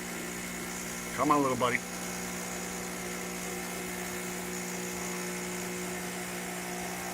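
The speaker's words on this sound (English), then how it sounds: "let's give it a test run. Oh, that sounds good. Sounds like an industrial machine." A DeLonghi espresso machine pump runs during a test run, giving a steady, even mechanical hum throughout with a brief spoken phrase near the start.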